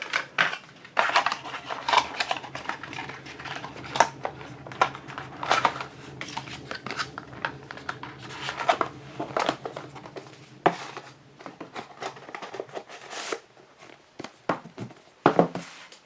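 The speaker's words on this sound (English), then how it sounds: "So just closing the box back up." A cardboard box for Jabra Elite 3 Active earbuds is being closed up on a tabletop: scattered close crinkles, scrapes, taps and soft thumps of folding card, irregular and moderately loud, without speech.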